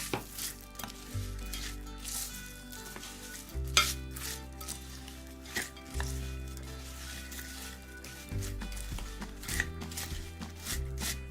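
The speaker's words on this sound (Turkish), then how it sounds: "İyice karışana kadar karıştırıyoruz." A spoon stirs a chocolate mixture with crispy rice cereal for chocolate balls, giving repeated soft scraping and squishing strokes up close, with a low musical background underneath.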